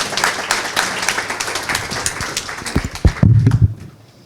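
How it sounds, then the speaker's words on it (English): An audience applauds at an English tutoring project event, a burst of moderately loud clapping for a few seconds that fades out, with a few voices mixed in. "I think they deserve a huge applause."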